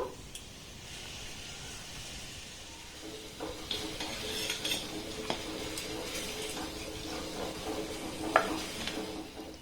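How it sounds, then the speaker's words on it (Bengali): Flower-shaped pitha fry in hot oil with a faint, steady sizzle. Occasional stirring clinks and small crackles rise a little after the first few seconds, close but quiet, with no voices. "একইভাবে সবগুলোকে আমি তেলের মধ্যে দিয়ে দেব।"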